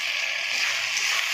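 Ground ginger, garlic, cumin and black pepper paste hitting hot oil with dried red chillies in a pan, a steady close hiss of frying that lasts briefly and alone.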